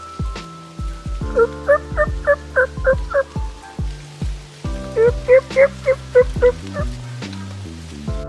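Wild turkeys gobble in two loud, rapid bursts a few seconds apart, with fainter calls and soft patters in between, in Pennsylvania during turkey season.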